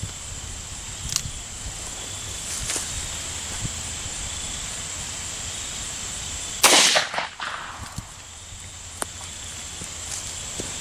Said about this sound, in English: Next, shooting 125 grain 357 mag jacketed hollow point.